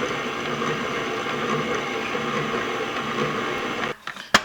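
An electric mixer whirs steadily while beating butter pecan pound cake batter in a bowl, a close, even mechanical drone that stops abruptly near the end, followed by a few clunks.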